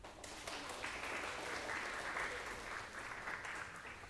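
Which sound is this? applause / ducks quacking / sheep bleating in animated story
applause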